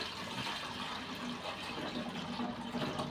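Rice water pours steadily into a container, a continuous rushing, splashing stream with no pauses and no voices.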